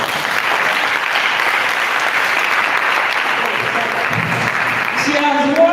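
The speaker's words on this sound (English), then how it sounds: "Please clap for her." Steady, loud applause from an audience at an academic food-week ceremony, an even wash of clapping that holds throughout and fades slightly near the end as a voice begins.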